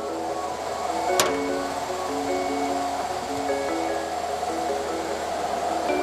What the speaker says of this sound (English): now this generator we call cogenerator, also CHP generator